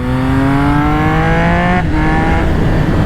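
Triumph Speed Triple 1200 RS motorcycle accelerating hard out of a corner, its loud engine note climbing steadily, with a single quickshifter upshift cutting in partway before the pitch rises again close by.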